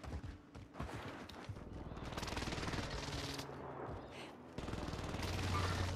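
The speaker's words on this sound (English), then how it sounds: "Here comes the airstrike." An incoming airstrike in the Warzone battle royale game, heard as a dense roll of rapid blasts and machine-gun-like bursts that swell and surge, fairly loud and continuous with chatter from players mixed in.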